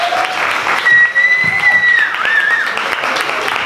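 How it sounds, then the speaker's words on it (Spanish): Audience applause at a talk on the science of language, steady and full across the room, with a sustained whistle-like tone and some chatter running over it. "Un aplauso."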